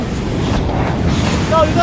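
Strong ocean waves surge and pound the shore at Amper Beach in Dipaculao, Aurora, during Typhoon Uwan, a loud continuous roar of surf mixed with heavy wind buffeting the microphone.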